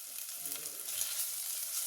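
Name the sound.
chopped onion frying and being stirred in pan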